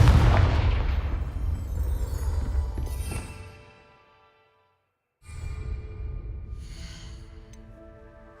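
A Confringo fire spell bursts in Hogwarts Legacy, a loud booming blast with a rumbling tail that fades out, then after a short silence more rumbling impact noise rises and continues.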